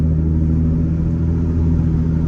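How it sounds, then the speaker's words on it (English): Ford Mustang S550 with an X-pipe exhaust cruising at low speed at night, its engine giving a loud, steady, deep rumbling drone heard from inside the car, with no talking. "just want to hear what the car sounds like"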